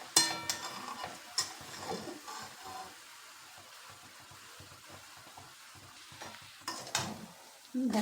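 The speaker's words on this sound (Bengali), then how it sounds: "এবার ভালো করে নেড়ে নেড়ে চিনিটাকে গলিয়ে নিতে হবে।" Sugar melts in a pan while a utensil stirs it, giving irregular scraping strokes and soft sizzling, with a few sharper clinks at the start and end and quieter gaps in between.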